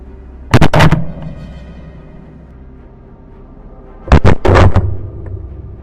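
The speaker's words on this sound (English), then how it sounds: "Another gunshot rang out almost simultaneously" Two loud, sharp rifle gunshots from a wild boar hunt, about three and a half seconds apart, each a close, punchy crack with a brief ringing tail over a quiet outdoor background.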